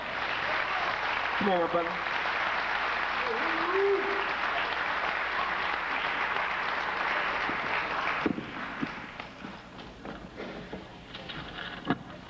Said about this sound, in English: bring him on with a warm round of applause